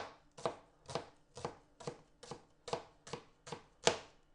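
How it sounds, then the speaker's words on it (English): A knife finely chopping shallots on a board, nine evenly spaced crisp chops, close and clear with nothing else heard. "So you're just going to want to finely chop your shallots."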